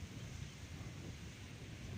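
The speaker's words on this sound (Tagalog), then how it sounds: "Malakas ang hangin dito" Steady, loud mountain wind near windmills in Pililla, Laguna, rushing and buffeting the microphone, a continuous low roar with no voices.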